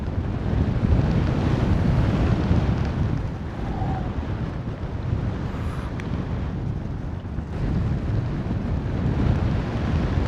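Strong wind roars and buffets against the microphone in a constant low rush while paragliding over the Himalayas at Pokhara, Nepal, with no talking heard.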